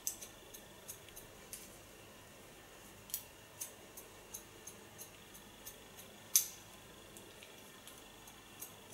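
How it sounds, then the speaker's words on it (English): Crisp, quiet snips of scissors cutting hair repeat at an uneven pace against near silence, with one louder sharp snip partway through. "it's the most wonderful scissor to slice with and to work with"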